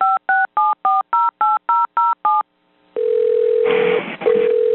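Telephone keypad tones during a 911 call transfer after a dollar store shooting: nine short, evenly spaced two-tone beeps, then a pause and a steady ringback tone with rising line noise toward the end.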